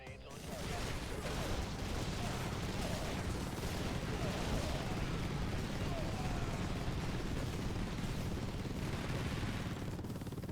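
Dense, continuous rumbling blasts and crackling gunfire from grenade explosions in the strategy game Infested Planet, a loud unbroken barrage with speech mixed in.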